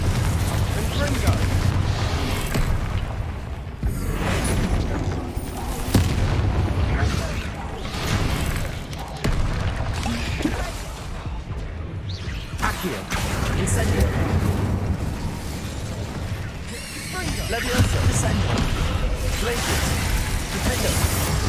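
Hogwarts Legacy combat with a dense stream of spell blasts, whooshes and booming bursts from the game. An excited player shouts spell names over them almost throughout.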